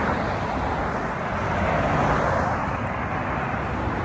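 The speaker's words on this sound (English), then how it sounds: "The cars is passing by." Cars pass along a road outdoors in a steady, fairly loud roar of traffic. No single vehicle stands out, and no one talks over it.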